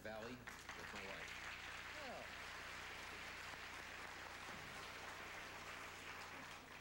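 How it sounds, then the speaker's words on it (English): Studio audience applause for a police officer contestant on a TV game show, a steady dense wash of clapping that holds for several seconds with a voice briefly heard at the start. "Nice to hear a police officer applauded there"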